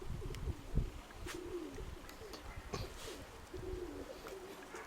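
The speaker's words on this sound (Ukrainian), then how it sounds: "Це літаючий голубок, хороший голубок, розумний голубок." Pigeons cooing close by in a dovecote, several soft repeated low coos over a faint background of rustling and other bird sounds, with no talking.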